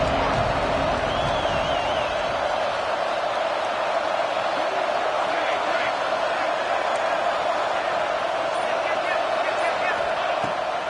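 A football stadium crowd roars steadily through a third-down play as the home defense gets fired up, a continuous dense wash of cheering and noise with commentary voices over it.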